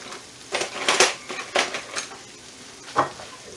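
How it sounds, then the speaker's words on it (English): A utensil scrapes and clacks against a pan while eggs seasoned with Tomahawk Seasoning Co essentials are scrambled, giving several sharp scraping strokes in uneven rhythm over a faint background with no talking. "Scramble them up like that"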